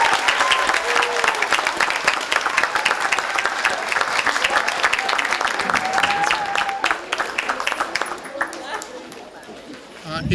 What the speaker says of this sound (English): hand of applause for all of our white coat